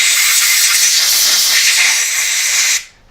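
Compressed air blowing out a machined shaft for an auction press: a loud, close, steady hiss runs for nearly three seconds, then cuts off abruptly, with no talking.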